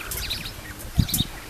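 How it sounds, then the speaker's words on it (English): Caged quail raised for eggs give a few quick high chirps near the start, then a couple of louder chirps about a second in, over soft rustling. "These are quail."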